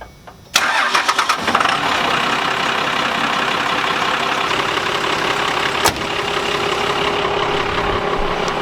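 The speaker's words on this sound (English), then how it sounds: "it worked, as in like the truck started" A dually pickup truck's engine cranks and catches after a brief quiet start, then settles into a steady, loud idle close by, with a sharp click or knock partway through.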